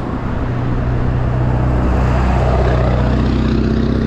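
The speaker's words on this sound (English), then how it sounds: "he's rather loud with that diesel pickup truck" A loud diesel pickup truck roars past very close, a deep rumbling engine drone that swells and holds, with no talking.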